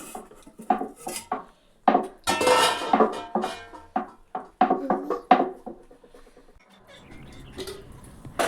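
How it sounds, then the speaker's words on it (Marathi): A knife chops onions and green chillies on a board, a close run of sharp, irregular knocks in quick bursts with short pauses between them, with no voices. "कांदे मिरची कापून घेते आधी"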